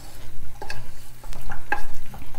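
Candied nuts coated in melting sugar are stirred in a pan, giving loud, rhythmic scraping and rattling strokes over a faint sizzle.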